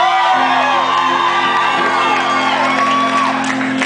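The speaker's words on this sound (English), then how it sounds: "I don't know why that always gets such a big cheer." A live rock concert crowd at the Paradise venue cheers and whoops loudly and continuously, with high shouts and whistles over a dense roar, while the band's instruments hum beneath.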